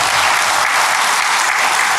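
Church congregation applauding together, a dense, steady wash of clapping that fills the whole moment at full strength with no voices heard.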